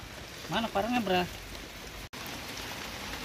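Steady rain patters down continuously, a dense hiss throughout, with a person speaking briefly over it early on.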